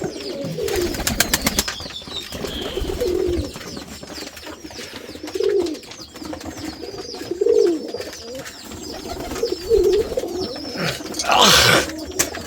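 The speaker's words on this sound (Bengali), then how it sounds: "এই যে একটা মাদি কবুতর একটা মাদি কবুতর" Rajshahi Giribaj pigeons at a farm loft coo in repeated soft, throaty rolls, close and distinct, with a brief flutter of wings near the end.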